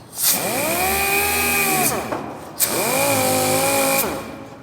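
An orbital sander, set too fast while wet-sanding paint, whines at high speed in two bursts, its pitch rising as it spins up and dropping as it winds down.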